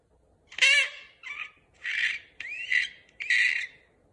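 At a talent show, a human voice imitates an eagle's call with five harsh, screechy bursts in an uneven rhythm, close and fairly loud against quiet between cries.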